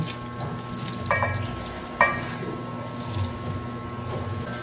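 Ground pork sizzles and fries in a pan while being prepared for pork lumpiang shanghai, a steady close crackle with a couple of sharper clanks or stirring knocks.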